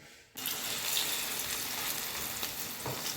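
Two pieces of fish frying in a home kitchen, a loud hiss bursting in suddenly as they hit the oil and then holding as a steady close sizzle.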